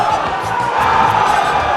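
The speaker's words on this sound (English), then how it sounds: "The crowd is getting so loud." A loud, dense crowd roars and cheers at a Smash Ultimate tournament, a close wall of voices and shouts filling the whole short stretch.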